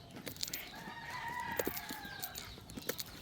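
Guinea fowl and native chickens cluck in short, scattered calls, with a few drawn-out crowing notes over a steady farmyard murmur at moderate distance.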